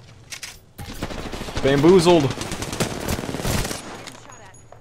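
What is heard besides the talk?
gunshots in a video game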